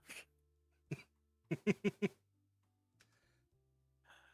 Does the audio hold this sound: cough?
yes